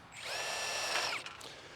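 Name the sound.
drilling a hole in aluminum greenhouse base with 1/8 bit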